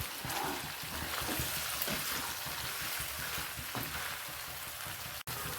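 Ginger garlic paste sizzles in hot oil with chicken liver, a steady close frying hiss with faint stirring and no voices.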